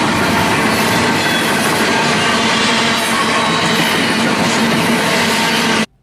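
Freight train in Riverside, California rolling past at good speed, a loud continuous roar of wheels and rail rumble with clatter throughout, cutting off sharply at the end.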